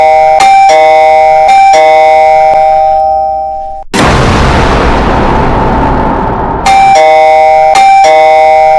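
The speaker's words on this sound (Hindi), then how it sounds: "तभी दरवाजे की घंटी बजने" A doorbell rings loudly in a cartoon household scene, with bright repeating chimes, a sudden crashing burst mid-ring, then the chiming resumes, with no voices.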